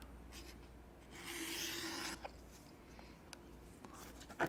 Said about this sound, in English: For the belt loops, we will also edge bevel the grain side